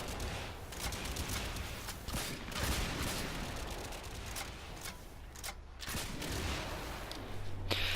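Rapid bursts of Zarr cannon fire in Warframe alongside other weapon blasts and explosions, dense, loud and continuous with brief dips.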